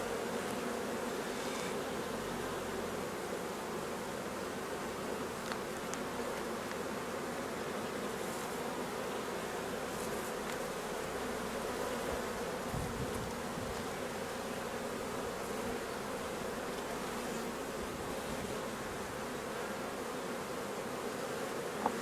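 Honeybee colony humming at an opened hive heavily loaded with honey, a dense continuous buzzing drone from many bees close by, steady throughout with faint rustling.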